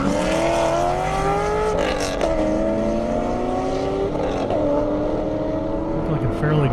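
A 1,000 horsepower Corvette Z06 launches on a half-mile airport drag strip, its loud engine revving hard with rising gear-by-gear wails and shifts. Another engine drones underneath, and a voice talks over it.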